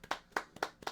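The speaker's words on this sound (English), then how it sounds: "golf clap" A slow, polite golf clap: four separate hand claps spaced evenly about a quarter second apart, close and fairly quiet, with no voices.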